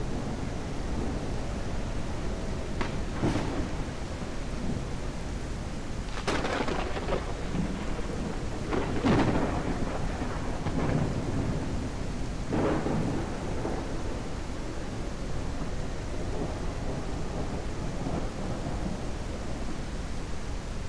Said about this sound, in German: es regnet aus Eimern,